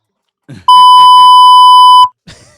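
One loud, steady electronic beep of about a second and a half cuts in over a voice, which resumes briefly right after.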